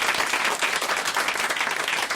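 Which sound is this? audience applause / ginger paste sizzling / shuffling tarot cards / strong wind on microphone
audience applause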